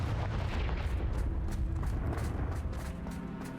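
A Confringo fire spell blasting in Hogwarts Legacy, a heavy booming rumble that rolls on continuously with sharp crackling bursts on top.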